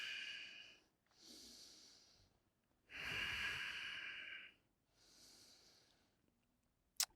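Slow yoga breathing in and out through the nose during a power yoga flow: four long, close nasal breaths alternating inhale and exhale, each two to three seconds, with a brief click at the end.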